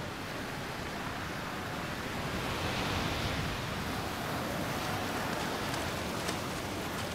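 Sea waves surge onto a beach under a rising tide as a broad, steady hiss of rushing water and foam, continuous and moderately distant, with no voices.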